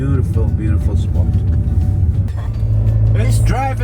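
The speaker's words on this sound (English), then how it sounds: "Driving in the car." Car driving up a foggy mountain road on Mt. Etna in Sicily, with a steady low engine and road rumble throughout while people talk over it.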